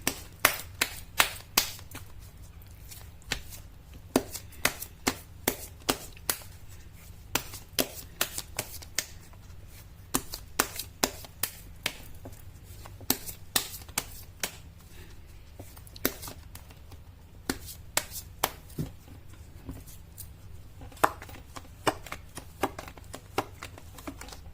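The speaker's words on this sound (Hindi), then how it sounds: "मैं कर लेती हूँ कार्ड की शफलिंग" Tarot cards are shuffled by hand in quick irregular bursts of crisp riffling snaps, close and clear over a faint low hum, with no voices.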